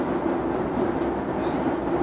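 Steady, close rumble of a train interior in motion, a continuous low drone with faint rail clatter running for about two seconds without any talk.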